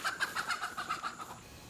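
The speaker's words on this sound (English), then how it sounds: "The chicken is in the yard" A chicken in a yard gives a run of about eight quick, evenly spaced clucks at moderate distance over a quiet background, then falls silent.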